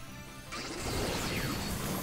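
Iron Head attack effect from a Pokémon Scarlet/Violet battle: a sudden crashing impact with a metallic swoosh, bursting in after a quiet moment and sustaining noisily to the end.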